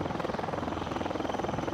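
A military helicopter's rotor beats in a steady, rapid thump with a broad engine roar, moderately loud and continuous throughout, with no voices.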